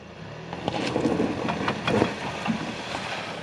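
A 2022 Ford Maverick all-wheel-drive truck crawling through an off-road twist ditch: a low rumbling drive with rough, bumpy bursts and wind buffeting on the microphone, fairly loud and close.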